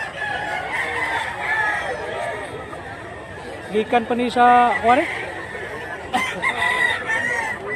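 A rooster crows loudly nearby while people talk at a rural farm in Mantalongon, Cebu, with other chickens clucking and a second crow following.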